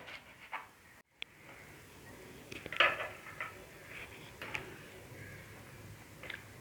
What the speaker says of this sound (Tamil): பீன்ஸை நல்லா பொடிசாக கட் பண்ணி எடுத்துக்கோங்க.